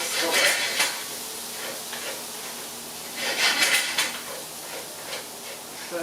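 Garlic sautéing in a skillet for a creamy corn and chicken dish, a steady close sizzle with bursts of scraping and clinking from a utensil against the pan, swelling louder around the middle.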